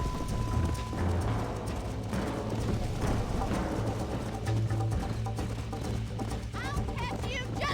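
In the Red Dead Redemption video game, horses gallop with a steady clip-clop of hooves, mixed with game music and voices talking over the rhythm.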